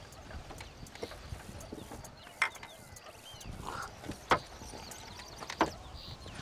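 Faint hooves clip-clop at an unhurried pace amid a quiet outdoor ambience in Red Dead Redemption, with a few louder clattering knocks.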